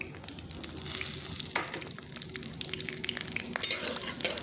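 Dried red chillies fry in hot oil in a wok, a soft continuous crackling sizzle with a few faint stirring clicks, close and fairly quiet.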